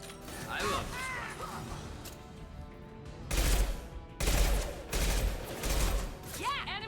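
Rifle fire from the Mass Effect video game, several loud bursts of shots in quick succession in the second half, following quieter game effects and chirpy sounds, with a voice talking over parts.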